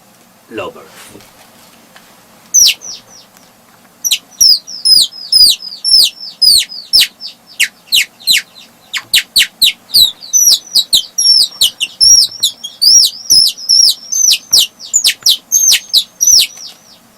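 A voice imitates bird calls, producing long runs of sharp, rapid whistled chirps and trills in quick bursts, loud and close, with brief pauses between phrases.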